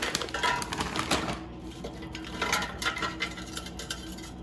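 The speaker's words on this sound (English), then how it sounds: "Now let's take out the air fryer basket and put the fries in the basket." Frozen Arby's curly fries get tipped into an air fryer basket, making a run of light clattering, tapping rattles that come in quick bursts and trail off into softer scattered clicks, close and fairly quiet.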